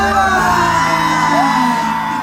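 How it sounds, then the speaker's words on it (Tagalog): A crowd at a Metro Manila Film Festival parade event whoops and cheers loudly for Vice Ganda, a dense close roar of yells over music. "palakpakan natin na may kasamang hiyawan, si Vice Ganda!"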